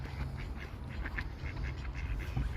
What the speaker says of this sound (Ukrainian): Оця сіренька качечка.